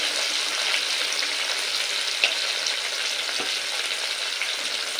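Chopped tomato and potatoes sizzle in a hot frying pan while being stirred, a steady crackling hiss with faint scraping and occasional soft taps of the spoon against the pan. No voices.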